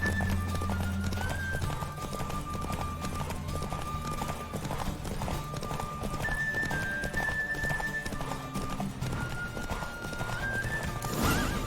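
Galloping hooves of the horse Roach drum in a fast, steady rhythm during a race in The Witcher 3, close and continuous over music, with a whinny near the start.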